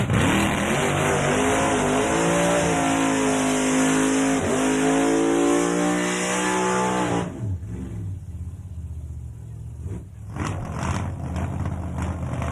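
At a Summernats event a car does a burnout, its engine screaming at high revs for about seven seconds, then easing off to a rougher, lower rumble with crowd and ambient noise.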